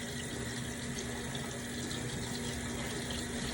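Tap water runs steadily into a sink while skin is rinsed after scrubbing with a polishing bar, a constant close rushing stream with no speech.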